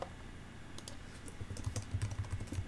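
Computer keys clack in a quick, uneven run of taps during programming work, faint and close, with a short pause early on before a denser burst of typing, no voices.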